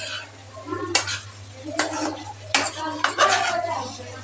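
A goat leg roast stirred in a cooking pot: four or five distinct metallic scrapes and clanks of a spoon against the pot, close and sharp, with a low steady hum and faint cooking noise between strokes.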